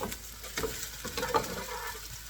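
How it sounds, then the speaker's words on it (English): Salmon skin crisping over low heat in a pan, quiet patchy sizzle with small irregular crackles and pops, close and faint, no voices. "I'm going to let the skin cook for another 2 to 3 minutes on the low heat"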